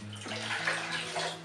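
Water poured from a small jug into a wine fermenter for a red wine kit, a brief continuous gushing splash, close and steady.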